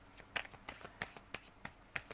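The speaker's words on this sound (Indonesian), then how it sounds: "kita akan lanjutkan menebar kartu" Tarot cards being spread out on a surface, a run of about eight quick, crisp taps and flicks in an uneven rhythm, close and fairly quiet, with no talking.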